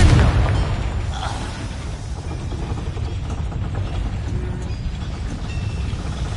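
A Confringo blasting spell explodes in Hogwarts Legacy, a loud, dense blast opening the moment and then settling into a sustained rumbling roar of game effects, with no voices.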